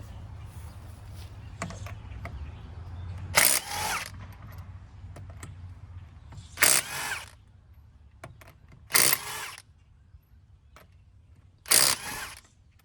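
A pneumatic or power impact tool spins car wheel lug nuts off in four loud, close bursts about a second long, each separated by quiet gaps with faint clinks and handling noise, and no talk.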